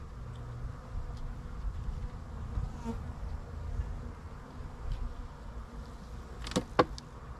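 Honey bees buzz in a steady droning hum around an opened Apimaye 7-frame hive during an inspection, with a few louder close passes near the end.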